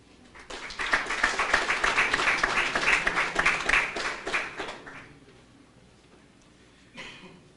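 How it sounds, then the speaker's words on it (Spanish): An audience applauds to welcome a speaker, president of the appeals commission of the Peruvian Football Federation, with steady clapping that swells, holds for several seconds, then fades out, leaving a cough near the end. "Lo recibimos con un merecido aplauso"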